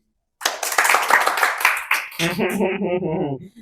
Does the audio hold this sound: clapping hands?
yes